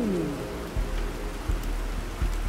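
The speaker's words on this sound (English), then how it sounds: "You guys hear that? We have rain." Rain falls in the video game Planet Crafter, a steady wash of patter with a few low thumps, moderately loud and continuous with no voices over it.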